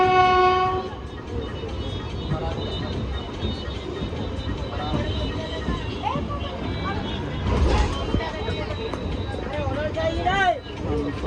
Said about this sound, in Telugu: ఏం ట్రైన్ ఇది? జోధ్పూర్ భోపాల్ జోధ్పూర్ ఎక్స్ప్రెస్.